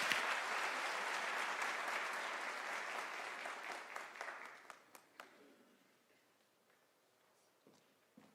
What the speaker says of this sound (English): Can we give an applause to Professor Pala?